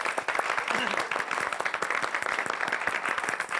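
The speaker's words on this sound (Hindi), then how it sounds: "जोरदार तालियां इन लोगों के लिए।" Applause from a studio audience for the backstage crew of hair dresser, makeup artist and costume designer, steady dense clapping throughout with voices mixed faintly underneath.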